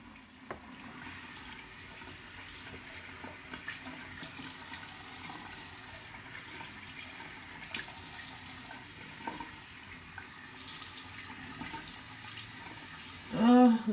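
Water pours from a sink tap while a clay mask is rinsed off a face, a steady broadband splash running throughout with small irregular bursts and a louder gush near the end.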